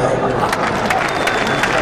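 A seated audience at a motivational trainer's session by Rajesh Aggarwal at Moral Kumbh claps loudly and densely in a steady, unbroken wash of applause.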